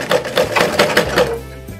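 A sewing machine stitches blouse fabric in short bursts of quick mechanical rattling, close and fairly loud, with the motor slowing and stopping near the end.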